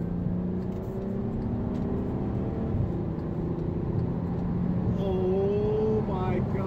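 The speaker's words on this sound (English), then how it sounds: "I'll show you how fast this vehicle can go." A 2018 VW Passat GT accelerates hard, its engine note droning steadily from inside the car and then climbing in pitch with rising revs toward the end.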